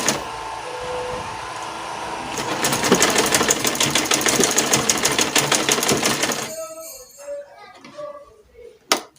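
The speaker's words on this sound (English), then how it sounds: "Okay, so I'll sew on top my elastic" A sewing machine stitches elastic onto a fitted pencil skirt: a loud, rapid mechanical run in the middle, then it stops, followed by small clinks and a sharp tap near the end.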